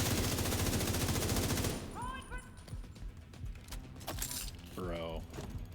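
Rapid turret gunfire in The Division 2, a loud dense burst up front that cuts off, followed by scattered game effects, electronic chirps and a voice speaking.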